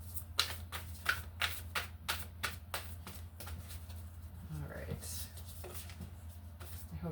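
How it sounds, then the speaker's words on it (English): A deck of tarot cards is shuffled by hand in a quick run of crisp, riffling slaps close to the microphone, softening into quieter card rustles over a low background hum. "that shuffle felt weird"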